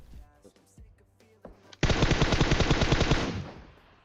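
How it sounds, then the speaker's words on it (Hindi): A few scattered gunshots in a video game, then a long, loud burst of rapid automatic gunfire that rattles on for about two seconds before fading out. "वहां पे दबा के गोलियां चल रही हैं"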